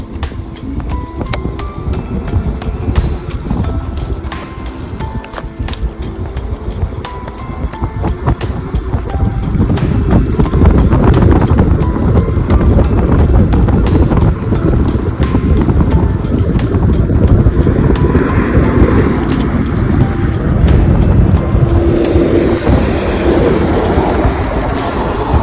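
An IENYRID electric scooter ridden outdoors on the road with non-working brakes, wind rushing over the microphone and road rumble rising as speed builds, a steady whooshing drone throughout with no talk.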